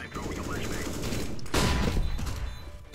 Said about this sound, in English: Someone's shooting on my back.